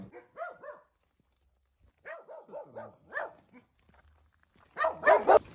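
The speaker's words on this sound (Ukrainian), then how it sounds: "Це на нас напала собака з тобою." A small black unleashed village dog in Mariiampil barks and yips aggressively in short bursts, with pauses between them, ending in a louder, more agitated flurry of barks.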